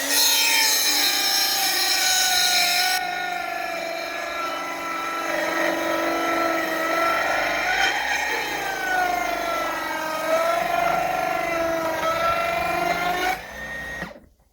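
A Makita DLS713 18v cordless mitre saw with an old, worn blade cuts through wood, its whining motor pitch sagging and straining under load for a long steady stretch before spinning down at the end.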